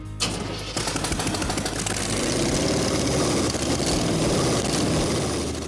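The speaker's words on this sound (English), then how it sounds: "This engine sounded good." A custom bubble top car's engine cranks and fires, then settles into a steady, loud, rumbling run close by, with a rough idle texture throughout and no talking.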